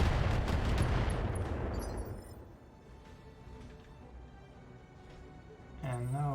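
Mech weapons fire in the Battletech video game, with a dense, loud barrage of shots and booms for about two seconds that then fades into a quieter rumble. A voice is heard near the end.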